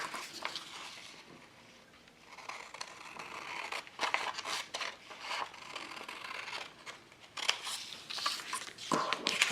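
Scissors cut a paper panel out of a coin envelope, close rustling snips and crinkles in uneven bursts after a quiet start, with no talking.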